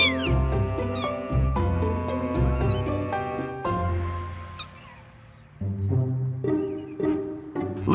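A mother cat and her newborn litter of four black and white kittens in a barn guest room, meowing repeatedly in close, overlapping cries, the rhythmic mews loud and near, with a brief quieter stretch before they resume.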